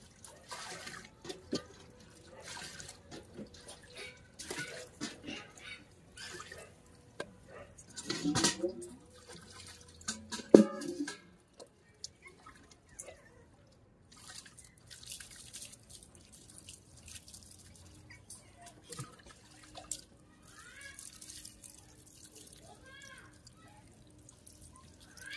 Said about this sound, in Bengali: গরম জলটা মিশিয়ে নি।